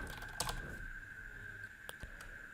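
Faint clicks of typing on a computer keyboard, with a few sparse keystrokes over a quiet room and a steady electronic hum.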